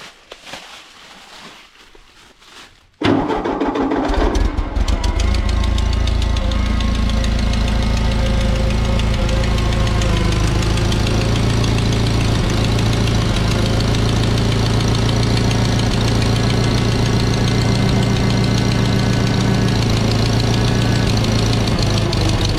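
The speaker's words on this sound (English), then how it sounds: "I'm gonna adjust the carburetor a tiny bit, I think." A 1939 Ford 9N tractor engine starts after a short quiet moment and runs loud and close with a steady, rough, knocking idle while its carburetor is adjusted.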